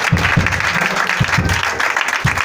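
A church congregation claps steadily through a morning service, a dense, loud, continuous wash of applause with a voice faintly underneath.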